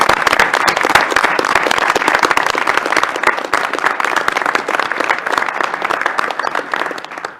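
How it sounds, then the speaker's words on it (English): Audience at a university Board of Regents meeting gives the panelists a dense, steady round of applause that carries for about seven seconds before tapering off at the end, with no talking over it. "Let's give our panelists a round of applause."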